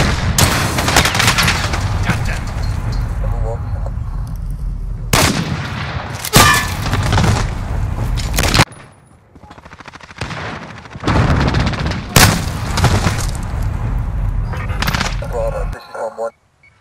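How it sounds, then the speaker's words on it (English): Call of Duty Modern Warfare firefight: loud bursts of rapid gunfire and heavy blasts, including a grenade explosion, in dense repeated volleys broken by a short lull, with voices in the mix. "Grenade out!"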